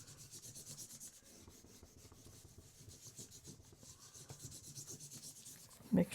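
A wooden spoon rubs gold leaf through copy paper in quiet, rhythmic back-and-forth burnishing strokes, close and soft, with a brief louder bump near the end.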